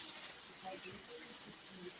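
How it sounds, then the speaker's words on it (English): Fish frying in a pan, heard as a steady hiss and crackle of oil in the background while people talk faintly over it. "He's frying up some fish."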